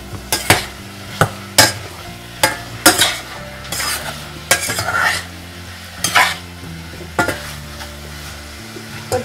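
Konkani masala with turmeric is sautéed in a pan for Malvani chicken curry. Sharp, rhythmic scrapes and clanks of a spoon against the pan sound over a light, continuous sizzle, up close and without talk.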